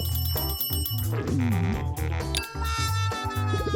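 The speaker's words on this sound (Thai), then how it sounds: "มีสายเข้า" A phone rings with a bright, repeating melodic ringtone for an incoming call in a cartoon, loud and up close, with a few short cartoon sound effects mixed in.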